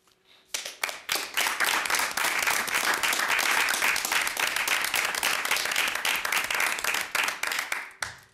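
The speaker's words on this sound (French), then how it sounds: "Est-ce que c'est moi que vous applaudissez?" An audience at a municipal council meeting in Drummondville breaks into loud, sustained applause that starts abruptly, holds steady for several seconds of dense clapping, then fades and stops.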